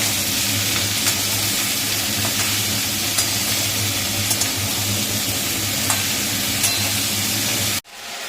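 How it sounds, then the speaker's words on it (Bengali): Ash gourd pieces sizzle in hot oil with salt and turmeric, giving a steady, close frying hiss with faint stirring scrapes that ends abruptly. "এবার এটা একটুখানি ভাজা ভাজা করে নিয়ে"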